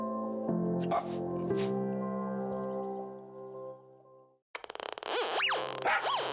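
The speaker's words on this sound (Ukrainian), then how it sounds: "Пес із ДСНС Патрон інформує." A dog whimpers in drawn-out, tonal whines, then after a brief pause lets out rapid high yips and squeaky cries, close by.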